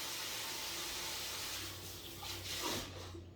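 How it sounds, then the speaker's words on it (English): Tap water runs steadily while hands are rinsed clean of sticky residue in a home kitchen, a continuous moderate splashing that swells briefly near the end. "I wash my hands only to get the stickiness off."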